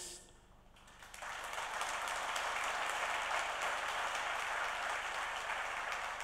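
A large audience gives warm applause at the opening session of an international forum hosted in Morocco for King Mohammed VI, dense steady clapping swelling in after a brief lull and holding loud and even to the end.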